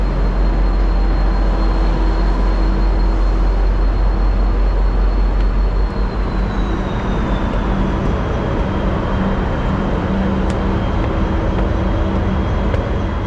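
A V/Line Velocity three-car diesel train with a Pride livery centre car passes through Melbourne, a steady, loud, close rumble with a rising whine that holds for the whole stretch, no voices.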